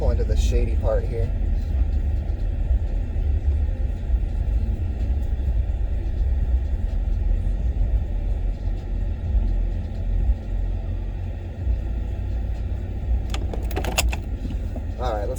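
From inside the cab, a 2010 Ford F-150 Harley-Davidson pickup eases into a shaded parking spot with a constant low rumble. Brief clicks and jangling sounds come near the start and end.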